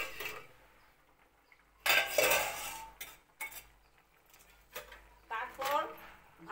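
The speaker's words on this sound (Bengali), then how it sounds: "ঢাকনটা সরাই দিই।" A pot lid lifts off with a sharp metallic clatter and a few clinks from a pan of ridge gourd and potatoes frying, then quieter kitchen clanks follow, with soft speech in the background.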